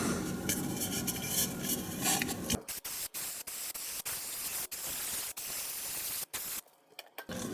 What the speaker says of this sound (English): I'll spray some just normal brake and clutch cleaner.